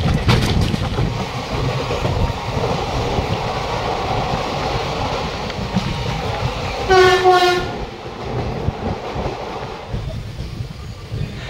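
The 22-coach Black Diamond Express rumbles into Sheoraphuli Junction in the rain with a steady near clatter of wheels, a loud horn blast partway through, and then quieter rolling as it slows.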